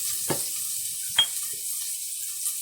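Ginger and onion sizzle in a pan as a soft, continuous frying hiss, broken by two brief utensil clinks, with no talking.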